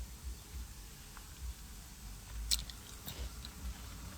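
Someone chews Cheetos very quietly and close up, giving soft, irregular mouth crunches over faint background hiss with no talking.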